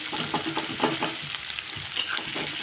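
Chopped onions sautéing in hot oil in a pan, a steady close sizzle with soft stirring scrapes throughout, no voices.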